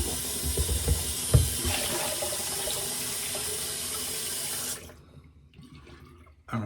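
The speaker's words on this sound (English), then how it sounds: "Okay, I'm gonna dump out this basin over here. Do a little rinse out." Water pours out of a basin and runs as it is rinsed, a loud, continuous splashing rush close by that stops abruptly near the end, followed by quieter trickling and a final short splash.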